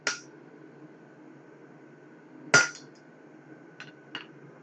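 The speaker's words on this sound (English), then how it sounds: "want to chisel marks into the face of our anvil" Sharp metallic hammer blows on a chisel cutting marks into an anvil face during blacksmithing, one at the start and a louder one mid-way, then two lighter taps near the end, over a steady low hum.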